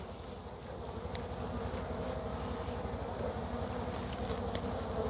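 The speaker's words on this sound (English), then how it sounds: "we've got a pretty good population of bees in here" A steady, dense insect buzz hums continuously throughout, low and droning like many bees close by, with no talking.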